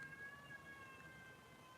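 A cat meows faintly and steadily, heard from a distance at low volume with no talking over it.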